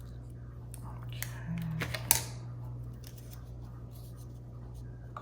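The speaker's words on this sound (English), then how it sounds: "A little big, so we're going to trim that." Scissors trimming paper for a snowy-day collage give a single short snip midway through, set against a quiet steady hum, with one brief spoken word shortly before.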